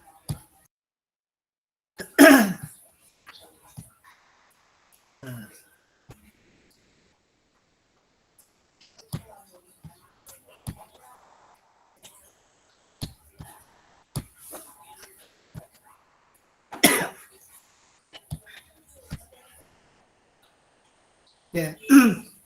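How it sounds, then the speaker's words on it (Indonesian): A man in a lecture room coughs and clears his throat in several separate harsh bursts spread across a mostly quiet stretch, with faint clicks and small noises in between. "maaf ya batuk Bapaknya"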